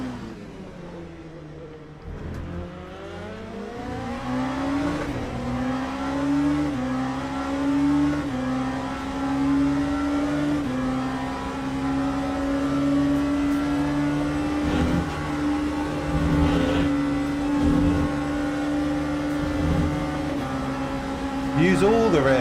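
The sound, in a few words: race car engine revving in the video game Le Mans Ultimate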